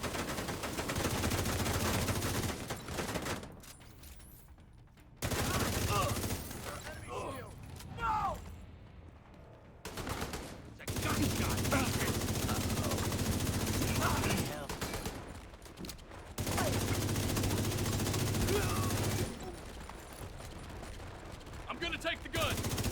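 Minigun fire in a video game, long loud sustained bursts of rapid gunfire separated by short quiet gaps, with mechanical clatter and voices talking in between.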